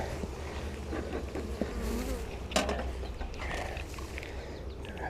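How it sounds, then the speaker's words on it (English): A dense, continuous hum of many honey bees at an open hive during an inspection, steady and close, with a brief clunk partway through and no voices. "And pretty good bee population here, so it's encouraging."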